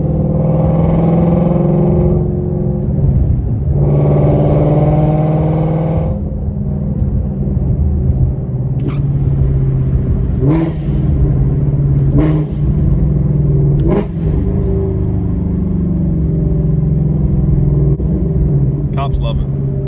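Shelby GT350 engine cruising with upshifts and downshifts, a loud interior rumble that rises in two revving swells, then steady drone broken by short gear-change blips.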